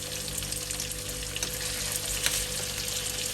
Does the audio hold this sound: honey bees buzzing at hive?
no